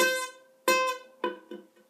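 A single plucked ukulele note rings out, followed by a few weaker, buzzy plucks from a string pressed too lightly that die away quickly.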